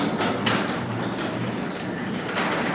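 An automatic garage door opener draws a residential garage door closed, giving a steady mechanical rumble and rattle that runs through the whole stretch at fairly close range, with no talking.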